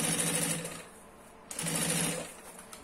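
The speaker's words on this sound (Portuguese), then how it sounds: "Aqui eu sobreponho a primeira costurinha, por isso que a gente fez bem na beiradinha aquela hora." A sewing machine stitches over a first seam in two close, steady whirring runs with a short pause between them, buzzing loudly with no talk.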